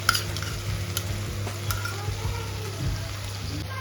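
A prepared spice paste for a Bengali fish kalia hits a hot pan and fries with a soft, steady sizzle, broken by scraping stirs and clinks close by, with no talking.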